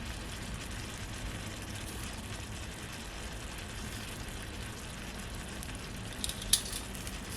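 Ramen noodles sizzle softly and steadily on a hot Dash mini griddle as they are pushed around, with a couple of faint scraping clicks near the end.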